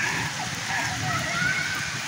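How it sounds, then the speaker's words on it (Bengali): Steady rain hisses across a slippery outdoor football pitch during a match between senior and junior teams, a dense continuous wash throughout with faint background voices. "বৃষ্টি হচ্ছে, মাঠ প্রচুর পিছলা।"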